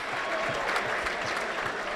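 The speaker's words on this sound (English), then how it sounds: "Yeah, the crowd is pretty lively." Steady applause and crowd noise fill Memorial Hall in Melrose, Massachusetts, during a women's fight between Alex Lopes and Ashley Nee, a constant clatter of clapping at moderate distance with no break.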